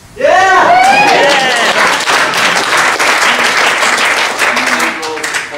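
Loud audience applause and clapping at a 2014 Max graduation ceremony in Auckland, a dense close burst of many hands that rises fast and holds steady, with a voice and cheers heard under it.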